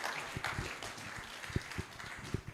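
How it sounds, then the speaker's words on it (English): Conference audience applauding, a dense wash of many hands clapping at once, steady and moderately distant, with a few sharper claps standing out. "Let's give him a big round of applause"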